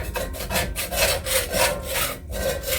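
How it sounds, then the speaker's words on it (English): A spatula scraping the bottom of a pan with butter in it, a rapid series of rough back-and-forth scrapes in a steady rhythm, close and fairly loud. "we're going to scrape it up with a spatula to make sure we get all that stuff off the bottom of the pan"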